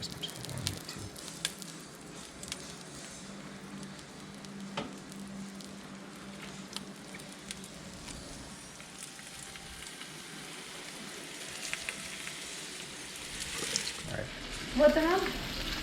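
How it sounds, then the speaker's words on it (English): Short ribs sear meat side down in a hot pan, giving a faint, steady sizzle and crackle with occasional clinks, close by and unbroken throughout. "let's get these bad boys seared up real nice. So we're going to start with the meat side down."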